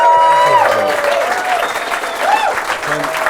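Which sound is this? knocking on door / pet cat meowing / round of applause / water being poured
round of applause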